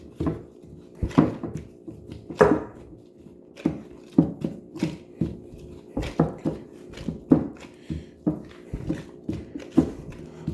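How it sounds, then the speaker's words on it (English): Milk bread dough kneaded by hand on a counter makes soft, rhythmic thumps and slaps, repeated steadily and close, with no talking. "Just going to knead it until it's smooth, doesn't stick to my finger."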